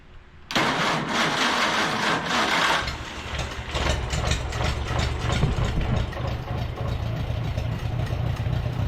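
Massey Harris Pony tractor with a flooded carburetor cranking and catching, the engine bursting to life and then running roughly, loud and close.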